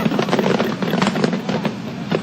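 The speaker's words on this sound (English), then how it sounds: "Just come out here and watch the fireworks without the snail races on the other days." Fireworks going off outdoors at an evening event, a continuous crackling barrage of dense pops and bursts at steady loudness with no pauses.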